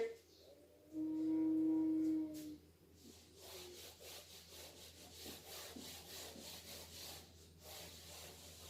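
Dry friction of a cloth or duster rubbed across a classroom board, a steady scrubbing texture running through most of the stretch, near and moderate, with a brief louder tonal scrape early on and no talking.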